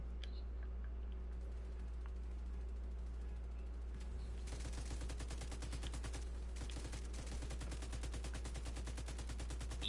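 Rapid automatic gunfire in The Division 2, a dense stream of evenly spaced shots starting about halfway through and running steadily, loud over a constant low hum, with faint scattered clicks before it.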